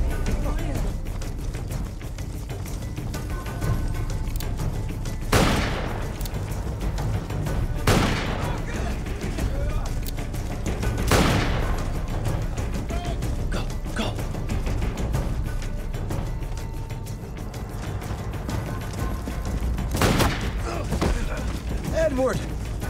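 Gunfire in an action-adventure film, a handful of sharp, loud shots spaced several seconds apart over a constant rumbling, noisy background.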